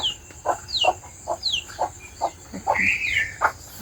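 Chickens cluck near their coop at dawn in a rural Bangladeshi yard, a run of short, close, rhythmic clucks with a few higher squawks, with no talk over them.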